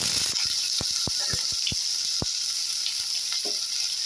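Chopped large onions hit hot oil spluttering with mustard seeds and cumin, giving a steady bright hiss punctuated by a quick run of sharp, close pops in the first couple of seconds.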